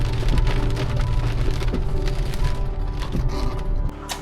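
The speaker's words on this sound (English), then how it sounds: "Ran into some rain already." Rain drums on a Chevy Colorado Trail Boss pickup parked along a Forest Service road in Georgia, a loud, close, continuous patter with low rumbling underneath, dropping off slightly near the end.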